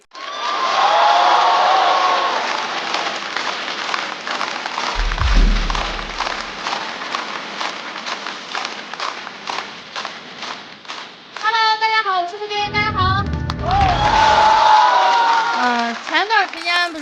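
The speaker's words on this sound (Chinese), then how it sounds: "掌声欢迎步惊云" A live stand-up comedy audience applauds and cheers to welcome a comedian to the stage, a long, loud, steady wash of clapping with upbeat music playing over it.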